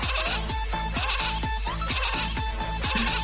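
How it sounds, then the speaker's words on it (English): A giant sheep end boss in a mobile video game bleats over and over at a rapid, even pace, loud and synthetic, roughly twice per second with no talking. "It's the end boss. It's a giant sheep."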